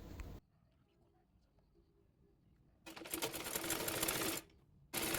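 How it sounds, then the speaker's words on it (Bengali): A sewing machine stitching a sleeve onto fabric for a baby nighty, with loud whirring runs at the start, then a sustained run of about a second and a half, then another run beginning near the end, separated by quiet stretches. "এবার এই কাপড়টির সঙ্গে হাতাটি সেলাই করে নেব।"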